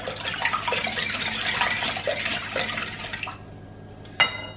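Six or seven eggs whisked in a bowl, a quick steady clatter of whisk strokes for about three seconds, then near quiet and a single faint clink.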